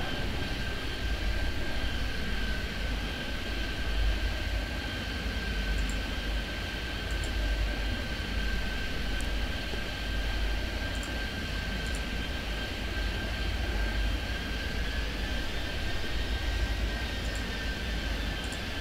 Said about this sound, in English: That's a small plane, isn't it?